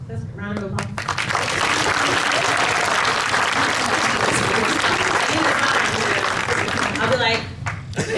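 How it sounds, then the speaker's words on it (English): A panel audience at DreamCon breaks into loud, sustained clapping that holds steady for several seconds, with a voice speaking briefly just before it starts and again as it fades. "Let's round of applause."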